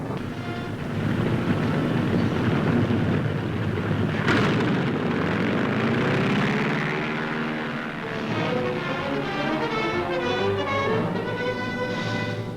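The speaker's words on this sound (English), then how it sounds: "Navy planes wing into the attack" Navy warplanes of 1944 fly into an attack, their engines roaring in a loud, continuous drone with wind-like rushing, a brief sharp burst partway through, and the roar carrying on unbroken to the end.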